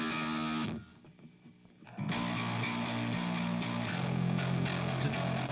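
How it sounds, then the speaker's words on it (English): A bass guitar run through a guitar amp gives a gritty, heavily distorted tone, playing loud sustained notes that drop out briefly near the start before resuming, with no talking over it. "And this particular processing is pushing that bass through just an amp, a guitar amp."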